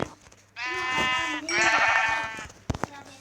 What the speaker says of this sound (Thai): แกะ